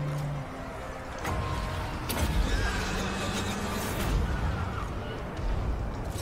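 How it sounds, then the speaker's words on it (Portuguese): Dragon horse cavalry neighs in the Total War: Warhammer II video game, buried in a dense, continuous battle din of rumbling, clashing and distant impacts. "Olha a quantidade de cavalo de dragão que tem aqui atrás comigo"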